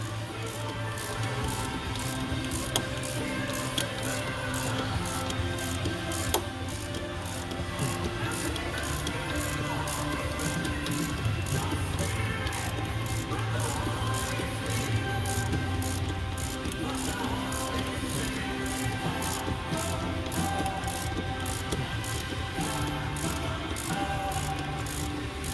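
A ratchet wrench tightening a bolt during a Yamaha RX1 reverse kit install, rapid repeated clicking strokes at close range and moderate volume, with other mechanical rattles underneath.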